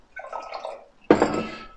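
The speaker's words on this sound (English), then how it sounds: "So I'm going to fill this glass with some water." Water poured into a drinking glass for a kids' chromatography experiment; a soft watery trickle comes first, then a louder, fuller splash of filling that fades over about a second.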